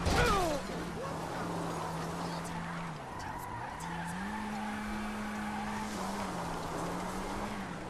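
A car speeds along a highway in Grand Theft Auto V, its engine droning steadily with a sharp tire squeal at the start and shifting engine pitch as it races on, fairly close and continuous.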